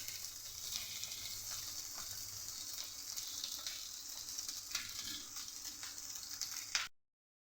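Leftover cooked rice fries with vegetables in a hot pan for fried rice, giving a steady, close hiss of sizzling oil that runs unbroken until it cuts off.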